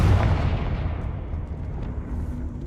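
A fiery Confringo spell blast in Hogwarts Legacy: a loud booming burst up front that rumbles and fades away over a couple of seconds.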